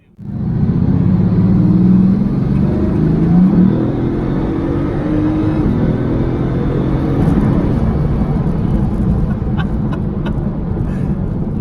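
Bugatti Veyron cruising on a highway, its engine a steady loud low rumble with road and wind roar throughout, a few faint clicks near the end.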